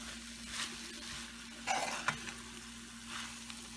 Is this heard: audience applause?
no